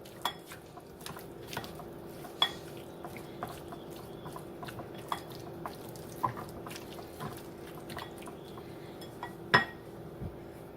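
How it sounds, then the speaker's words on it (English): Ingredients for a cream cheese sundried tomato sauce being mixed together in a bowl, with a quiet background and scattered light clinks and taps of a utensil against the dish, a few sharper knocks standing out. "Now you're going to mix that all in together."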